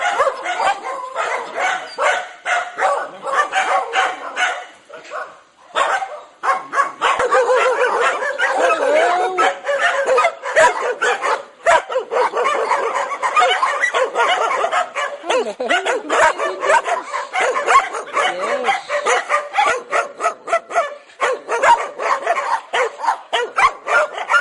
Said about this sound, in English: More dogs waiting for lunch.